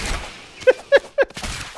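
Gunfire in the game Rounds: three to four sharp, evenly spaced shots pop close and loud in quick succession.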